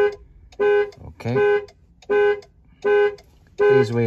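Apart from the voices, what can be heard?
car alarm going off on a 2021 Ford Ranger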